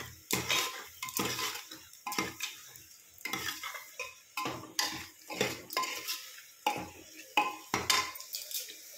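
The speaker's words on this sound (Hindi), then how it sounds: "अच्छे से मिक्स करेंगे।" A spoon stirs bottle gourd masala seasoned with coriander powder in a pan, with repeated close scraping strokes and light clinks over a soft sizzle.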